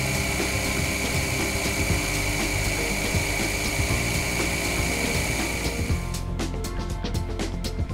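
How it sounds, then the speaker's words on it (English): Drilling and reaming metal on a lathe in a home machine shop while making a pinion head depthing tool, a loud steady machine whine with grinding cutting noise, turning into scattered clicks and taps near the end. "It was then drilled and reamed to accept that runner shaft that I set aside earlier."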